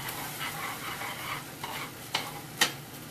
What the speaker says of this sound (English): So let's stir it all up again.